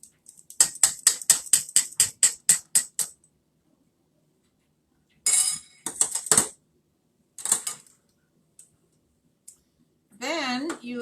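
Hand-cranked egg beater whipping eggs in a bowl, a fast run of rhythmic clicking followed by shorter rattling bursts separated by pauses, close by, with a voice speaking briefly at the end.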